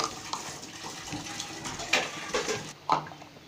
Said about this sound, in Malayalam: ഇത് വെല്ലം സിറപ്പാക്കിയതാണ്. ഇത് നമുക്കൊന്ന് അരിച്ചിട്ട് അതിലേക്ക് ഒഴിച്ചു കൊടുക്കാം.